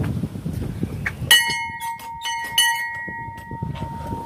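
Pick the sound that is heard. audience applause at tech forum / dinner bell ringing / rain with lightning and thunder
dinner bell ringing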